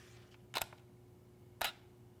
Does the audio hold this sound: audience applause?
no